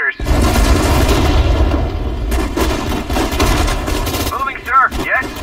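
Infantry fire on a target in the WWII strategy game Sudden Strike 4: a dense, loud rattle of rifle and machine-gun shots lasting several seconds, followed by a brief voice line at the end.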